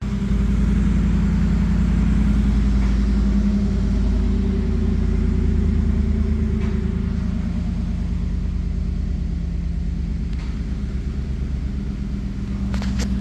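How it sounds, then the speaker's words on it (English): Ford Mustang GT V8 with a newly installed ported intake manifold idling steadily in pouring rain, a loud, deep, even rumble that holds throughout with a faint rattle of rain. "But it started up, idling fine."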